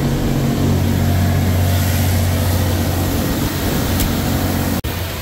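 A loud, steady engine drones at raised revs of about 1800 rpm with a low rumbling hum, close by, with wind noise mixed in.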